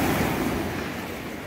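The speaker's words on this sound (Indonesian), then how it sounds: "suara ombak angin" Ocean waves wash against the shore under a steady gust of wind, a soft, even hiss and rumble heard faintly for a brief moment.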